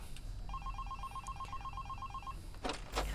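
Telephone ringing in the horror game Five Nights at Candy's: a steady run of rapid electronic trill bursts repeating for about two seconds over a low ambient hum, followed by a couple of brief louder noises.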